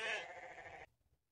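A single loud, wavering goat bleat lasts under a second and then cuts off into near silence, with no talk around it.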